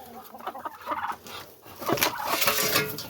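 Roosters and hens cluck and squawk close by in a busy, overlapping chorus inside a coop within a coop, with a louder burst of crowing calls toward the end; one is a laughing rooster breed.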